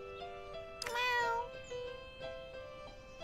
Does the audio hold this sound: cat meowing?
yes